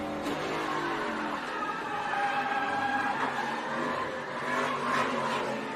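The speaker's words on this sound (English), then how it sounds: "This has the crash and just audio from inside the truck." Engine and tire noise of a dirt-track race truck sliding sideways and crashing, heard from inside the cab: a steady mid-level roar with whining, squealing tones, muffled and continuous throughout.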